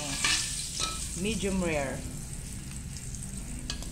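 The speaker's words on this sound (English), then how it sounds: "Itong ating butter ay painitin muna natin." Butter sizzles and fries steadily in a hot pan before a ribeye steak goes in, a continuous close crackling hiss with a few stirring scrapes, while a voice speaks briefly over it.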